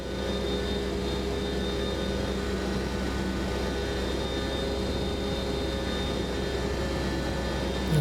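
Boeing 727 in Microsoft Flight Simulator 2024 banking through a turn, a steady, even jet engine drone with a constant whine and airflow hiss, unchanging and alone for the whole stretch.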